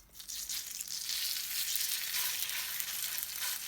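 Potato pancakes frying in a shallow layer of oil give a steady, loud hiss and sizzle that swells just after the start and holds to the end, with no talking.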